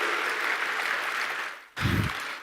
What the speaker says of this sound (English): let's give a big round of applause to Ministry of Culture